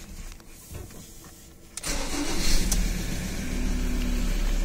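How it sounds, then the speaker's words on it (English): A 2012 Ford Ranger engine cranks briefly and fires after a quiet start, then settles into a steady, close idle with no one talking. "Start the car up."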